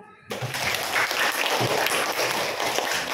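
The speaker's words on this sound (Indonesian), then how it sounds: "Tepuk tangan untuk kelompok 3." Classroom applause for a student group, a dense burst of many hands clapping that starts abruptly and holds steady, fairly loud, with faint voices mixed in.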